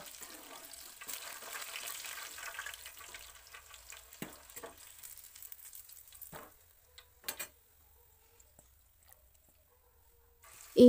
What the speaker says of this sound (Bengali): মাংস যেগুলো ছিল সেগুলো আমরা ভেজে নিচ্ছি